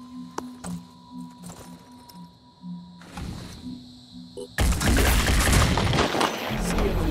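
Gunfire in the video game Phoenix Point, a few sharp isolated shots early on and then a loud dense burst of firing in the second half, with a low electronic hum underneath.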